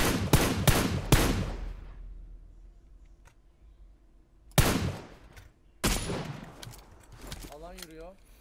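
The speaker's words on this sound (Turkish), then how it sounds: "adama sıkıyorum" Gunfire in PUBG Lite: several sharp shots burst out at the start, then more loud bursts later, with quieter stretches between and voices talking over the action.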